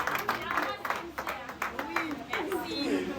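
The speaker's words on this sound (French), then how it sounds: "applaudissons pour elle." Applause for a graduate at a school certificate ceremony, with scattered rhythmic clapping from a nearby crowd mixed with chatter and a voice speaking over it.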